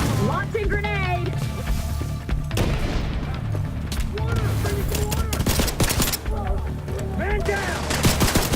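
Grenade launch amid dense gunfire in the video game Division 2, with rapid bursts and booms crowding a loud, continuous battle mix while voices talk and shout over it.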